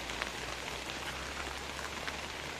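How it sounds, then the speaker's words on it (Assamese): Steady morning rain falls on surfaces around a house, a dense, even patter with scattered sharper drops and no voices. "পুৰা বৰষুণ এতিয়া"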